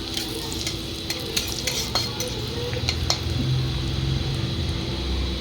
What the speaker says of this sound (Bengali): আমি দিই একটু রসুন আর সসটা একটু ভেজে নিই